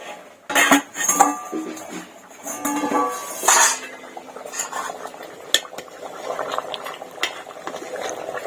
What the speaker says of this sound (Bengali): এবার এটাকে এখন কিছুক্ষণ আঁচ দিয়ে রাখতে হবে, সেদ্ধ করতে হবে।